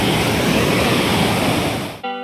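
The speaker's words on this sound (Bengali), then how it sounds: "জলের স্রোত পুরো আছে কিন্তু" A strong current of the Jaldhaka river at Jhalong in the Dooars, West Bengal, roars as loud, steady broadband water rush close by for about two seconds before cutting off abruptly to faint music.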